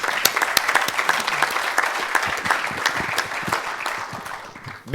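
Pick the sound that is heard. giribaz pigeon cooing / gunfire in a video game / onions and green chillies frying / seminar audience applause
seminar audience applause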